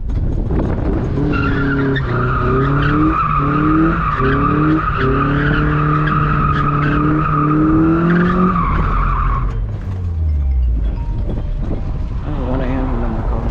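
A stock Mazda Miata slides with loud, sustained tire squeal over a revving engine, the pitch holding steady for several seconds before the engine drops away; speech briefly surfaces near the end.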